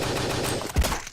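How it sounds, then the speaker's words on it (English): Rapid gunfire from a modded shooter video game rattles in a dense, loud burst of shots lasting about a second, with a heavier thump near the end. "I missed every shot because I'm not a good shot."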